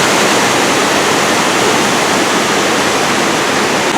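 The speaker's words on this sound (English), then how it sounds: "this is an awesome waterfall. Obviously it's artificial." A large artificial waterfall in a downtown Idaho Falls setting roars with a loud, steady, unbroken rush of falling water, close by and with no voices over it.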